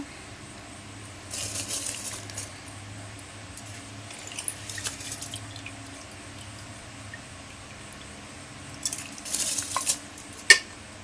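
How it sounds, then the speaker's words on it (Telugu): Washed rice going into a pot of boiling water for pulao, heard as a couple of short bursts of pouring and clatter against a steady low stovetop rumble. "మనకి వాటర్ అయితే మరిగినాయి కాబట్టి రైస్ కూడా వేసేసుకుందాం."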